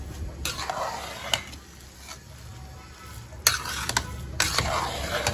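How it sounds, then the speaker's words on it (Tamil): Cooked bisibelebath rice and lentils are mashed in a pot, soft squelching scrapes with a few louder knocks of the utensil against the pot, close and fairly quiet. "மேஷ் பண்ணி விட போகிறோம் கொஞ்சமாக"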